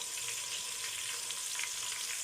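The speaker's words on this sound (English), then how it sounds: "When masala crackle, I am going to put the onion" Onions frying in hot, crackling masala for Mughlai-style chicken dum biryani give a steady, loud, even sizzle that fills the whole moment, with no voices.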